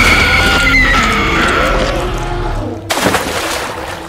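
A woman screams for help in high, strained wails that rise and waver, loud and near, then break off into a sudden sharp crash and clatter.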